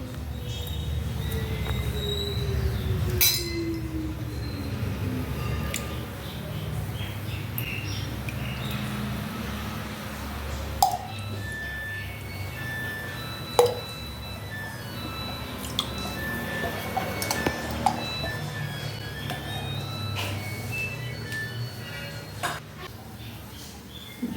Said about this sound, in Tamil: அஞ்சே நிமிஷம் இந்த மாதிரி சிலுப்புங்க, வெண்ணெய் வந்து சீக்கிரம் வந்துடும்